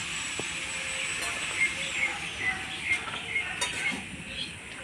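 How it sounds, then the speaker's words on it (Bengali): Bottle gourd being stir-fried in a pan for a gourd and egg dish, with a steady soft sizzle and repeated light scrapes and clinks of a spatula against the pan, close and continuous. "এবার এটা আমি 5 মিনিট আবার লাউটাকে ভালো করে কষাবো"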